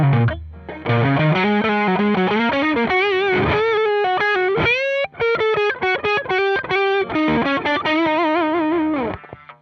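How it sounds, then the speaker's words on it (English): An electric guitar plays a melodic lead line through a GE200 Pro multi-effects unit set to overdrive, with no delay or reverb. The notes are loud, distorted and sustained, with no other sounds. "Try without the delay and reverb. Tweak the overdrive a little bit."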